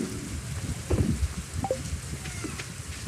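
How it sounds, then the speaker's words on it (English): Steady rain in the farming game Stardew Valley, a constant soft wash of falling drops heard alone without talk, with a few faint scattered clicks and taps over the hiss. "On my end, it's just Harry's voice and rain"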